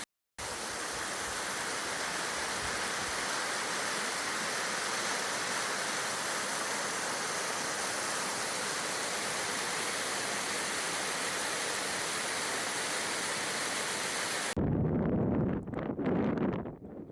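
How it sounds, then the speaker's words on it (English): A makeshift, partly man-made waterfall on the Pacific Crest Trail gives a constant, dense rush of falling water. The roar stays loud and unbroken for about fourteen seconds, then gives way to quieter rustling. "But then I stumbled upon this kind of makeshift waterfall."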